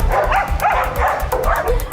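Dogs bark at a doggy daycare in Sao Paulo, several loud yipping barks in a quick repeating rhythm, close and prominent over a busy background.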